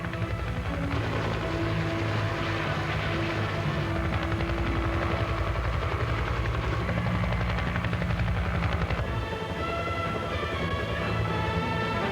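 An Evolution attack helicopter flies in a steady, loud, continuous drone with a dense rotor and turbine roar that holds throughout, shifting slightly in tone near the end.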